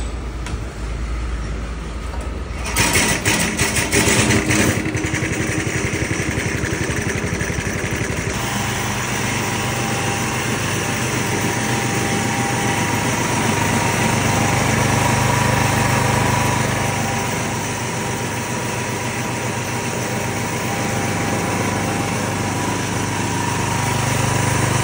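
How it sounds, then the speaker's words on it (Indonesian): A Loncin 224cc engine on a push lawn mower starts with a brief rough burst, then runs steadily at a loud, constant high-pitched drone for the rest of the time. "Engine berkuasa cc tinggi dan start pun senang hidup."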